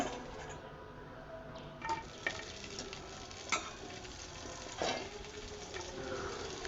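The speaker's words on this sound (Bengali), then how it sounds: "তো এখন আমি শাকটা রান্না করে নিচ্ছি।" Leafy saag greens cooking in a pan, with a soft, steady sizzle and a few distinct scraping stirs at irregular moments, close by and fairly quiet, with no talking.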